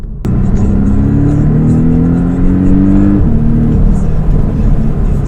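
A Porsche 718 Boxster S convertible engine revs up loudly and close, its rising harmonic tones climbing steadily before a brief drop at a gearshift, then pulling on with a steady drone.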